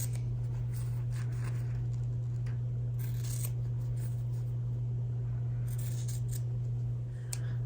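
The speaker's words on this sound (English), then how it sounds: "I'm just going to use a pair of scissors. It's really simple to cut on that line." Scissors snip steadily through fabric in a series of quick crunchy cuts, over a constant low electrical hum.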